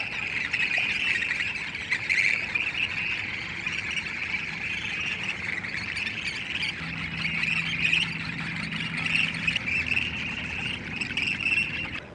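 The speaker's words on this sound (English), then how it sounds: "Here's a pair of western grebes just beginning to build a nest." A pair of western grebes calling as they begin building a nest among shoreline tules on a lake, with repeated shrill, squawking cries close by over a constant busy background of other birds.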